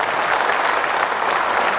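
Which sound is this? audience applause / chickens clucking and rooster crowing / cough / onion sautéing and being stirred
audience applause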